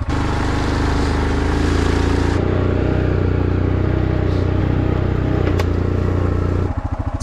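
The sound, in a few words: four-wheeler ATV riding up a mountain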